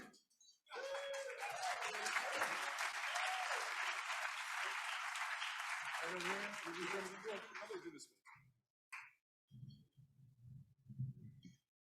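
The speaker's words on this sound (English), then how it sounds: "Please keep the applause going." An audience at a Follies stage show breaks into loud, dense applause that holds for about seven seconds, then thins to scattered claps with voices at the end.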